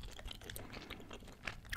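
Gum being chewed close to the microphone during a relaxed Fortnite gaming session, with steady wet, smacking mouth sounds in a continuous rhythm and a few sharper crackly chews, no talking.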